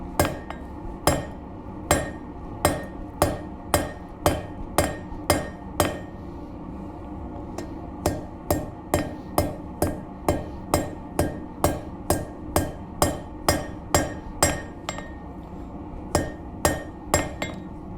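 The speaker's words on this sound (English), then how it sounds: "line up the side of the hammer with the side of the anvil to keep it centered" Steady metallic hammer blows on an anvil ring out one after another in a regular rhythm while forging metal, with short pauses between bursts of strikes, close and loud.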